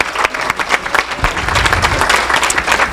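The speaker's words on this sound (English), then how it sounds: "Let's give her a big round of applause for that." A fleece show awards audience breaks into loud, close applause, with individual hand claps distinct at first before merging into a dense, lively round.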